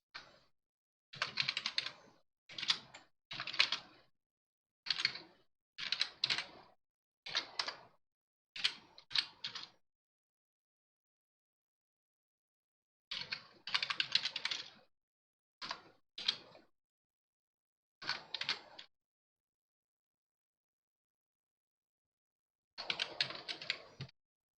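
Quick bursts of keystrokes on a computer keyboard type out a folder name, short clicking clusters separated by silent pauses, close and alone without any talking.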